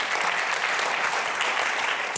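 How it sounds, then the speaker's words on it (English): A steady round of applause from an audience at a health promotion event, even dense clapping throughout at moderate loudness with no voices over it. "I think it's an applause"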